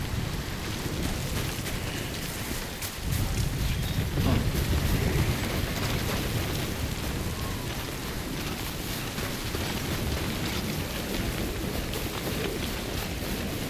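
Steady rain in Death Stranding falls as an even, unbroken hiss with a low rumble underneath, moderately loud and constant throughout, with no talk.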